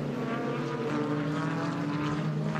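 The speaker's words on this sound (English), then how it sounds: "Turbocharged 1300cc Hayabusa Superbike engine, mounted sideways, and it is chain driven to the rear wheels." Race car powered by a turbocharged 1300cc Hayabusa superbike engine mounted sideways with chain drive to the rear wheels, at Ruapuna circuit: a steady, continuous engine drone with sustained harmonics throughout, moderately distant.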